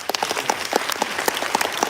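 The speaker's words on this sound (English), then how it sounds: "can we just give my panelists a round of applause," Audience applause for a panel at a Cantonese AI language model launch event, a brief burst of scattered hand claps from a modest crowd in a conference hall.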